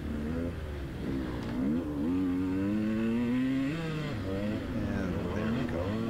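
A small-engine dirt bike rides wide cross-country trails, its motor revving up and down through the gears close to the rider, with steady wind rush. Someone talks over it.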